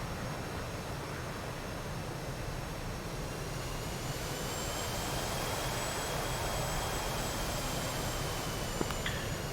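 Jet aircraft spooling up for a carrier launch in a flight simulator game, a loud, steady broadband engine roar that swells slightly midway and holds, with no voices over it.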